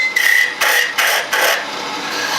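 A wooden spin top handle shaped on a lathe, with four short rasping cuts into the spinning wood, each a bright hiss that stops and starts, followed by a softer steady whir.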